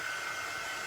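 Steady, loud whoosh of a hair-dryer-style drying tool blowing air onto a terracotta pumpkin, continuous and close with no other sounds.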